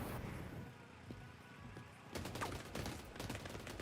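Gunfire in a shooter video game with hazard protection and backfire gear, a quick burst of shots that is faint at first and thickens into a denser volley in the second half, alone with no talk.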